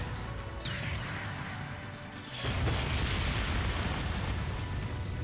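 A bomb detonates in the Trails of Cold Steel II video game, a sudden loud broadband blast that cuts in after a quieter stretch and rumbles on heavily, filling the rest of the moment with sustained low roaring debris noise.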